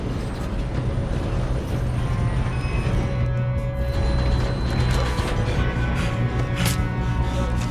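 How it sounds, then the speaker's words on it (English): Continuous rumbling and clattering of a moving train in the video game Red Dead Redemption 2, loud and close, with metallic rattles and occasional squeals over a steady mechanical drone. "we need to stop this train"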